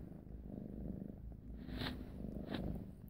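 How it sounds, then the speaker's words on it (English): A steady, low rumbling cat purr runs continuously, close by, with a couple of soft higher rustles or thumps partway through. "And there's Louie purring and playing with the lamp."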